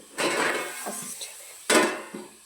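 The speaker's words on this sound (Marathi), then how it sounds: "आता झाकण ठेवते असं" A metal lid set onto a cooking pot of red pumpkin on the stove, two clattering clanks close by with small rattles as it settles.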